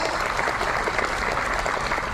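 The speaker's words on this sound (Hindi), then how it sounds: "जोरदार आप लोग उनके लिए जबरदस्त तालियां बजाएं" Audience applause for warriors seated in the hall, a dense, steady wash of clapping filling the room without pause, loud and even throughout.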